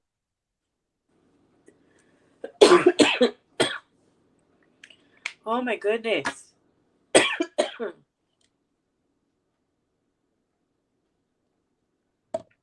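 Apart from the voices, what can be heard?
coughing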